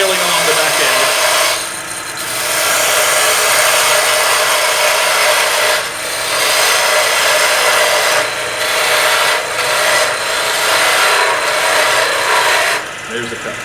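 A parting tool cutting into wood on a lathe gives a steady, loud scraping rasp that runs nearly throughout, with brief dips where the cut pauses.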